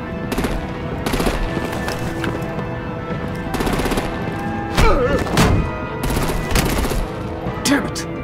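Rapid bursts of automatic gunfire and heavy thuds erupt in a Telltale Batman action scene, coming in repeated volleys over a loud, busy mix.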